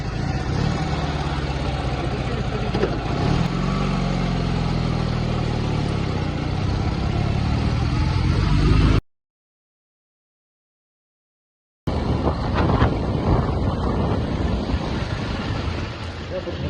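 An old Dnepr motorcycle engine, running out of fuel, rumbles and labors unevenly amid wind buffeting, cuts to complete silence for a few seconds, then resumes running rough.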